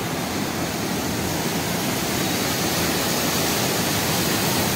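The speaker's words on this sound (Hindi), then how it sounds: "यहाँ बैराज के सामने आपको पानी की आवाज सुनाई दे रही होगी" Rushing water roars continuously at the Ganga Barrage in Kanpur, a loud, even, broadband wash with no breaks and no voices.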